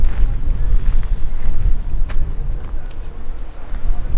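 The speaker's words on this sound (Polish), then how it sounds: "Ale wieje dzisiaj." Strong wind rumbles and buffets a microphone outdoors, loud and constant across the whole stretch, with no clear voices over it.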